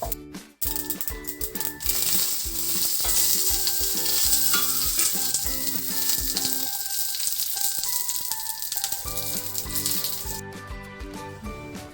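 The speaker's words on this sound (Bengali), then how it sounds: "এবারে কারি পাতা আর সর্ষে ফোড়ন দেবো" Curry leaves and mustard seeds crackle and spit loudly in hot tempering oil for a peanut chutney, a dense burst of popping sizzle that starts abruptly and holds steady to the end.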